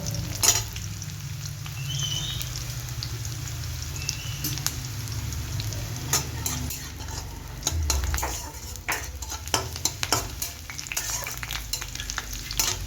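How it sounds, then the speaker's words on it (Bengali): Garlic frying in a pan until brown for a squash curry with dried shrimp, a steady soft sizzle under frequent clinks and scrapes of a spatula stirring against the metal pan, fairly close. "এই রসুনগুলো পুরাতে নেই ব্রাউন কালার করতে হয়"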